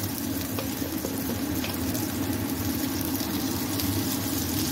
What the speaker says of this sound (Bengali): লাল লাল করে ভেজে নেব আলুগুলো।